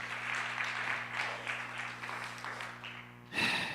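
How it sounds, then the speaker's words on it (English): A church congregation applauds its worship team, with steady moderate clapping under a low hum before a louder burst at the end. "Give them a round of applause."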